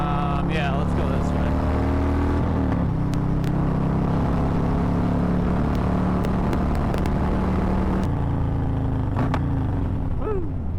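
Harley-Davidson Road Glide ST motorcycle at full throttle on the road, its loud engine roaring and shifting pitch through gears, with wind rush and a rider's voice over the steady din.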